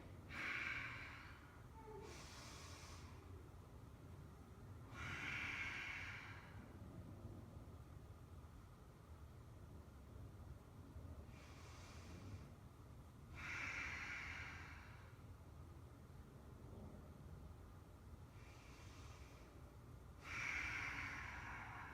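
Slow, deep yoga breaths during a seated yin twist: soft, airy inhales and exhales recur at regular intervals, close and quiet, about four or five breaths with no talking.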